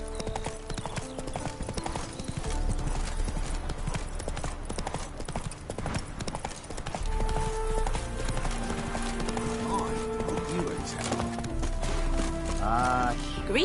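Roach, a horse in The Witcher 3, gallops with a rapid, steady clatter of hooves over layered game music and ambience, with a brief whinny-like tone near the end.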